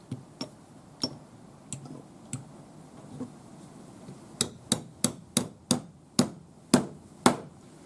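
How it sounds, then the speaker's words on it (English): A hammer drives a doming punch into a metal ring. Sharp, close metallic cracks land at a slow, uneven pace at first, then come quicker and louder in a steady run of about ten strikes. "So you just hammer it in, and you can hear it when it hits bottom, that sharp crack."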